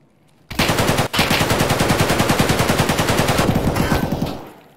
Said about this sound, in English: He's shooting me behind cover.